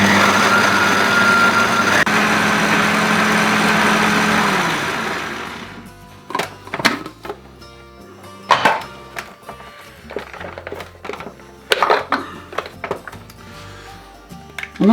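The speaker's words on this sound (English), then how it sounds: "But I've got a food processor, so a quick whiz on that will do the job." A food processor whizzes softened home-grown fruit for mincemeat, a steady high motor whir for about five seconds that winds down and stops, followed by scattered clunks and knocks of handling the bowl close by.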